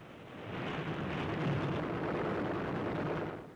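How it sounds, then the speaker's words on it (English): A sustained, heavy rumbling roar as an enemy bomb explodes just missing a warship, broad and dense, rising quickly and holding steady for several seconds. "Another enemy bomb barely misses its target."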